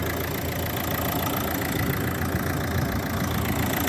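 A Renault Scenic's engine idles steadily at close range, a continuous even mechanical hum and rattle with no voices over it.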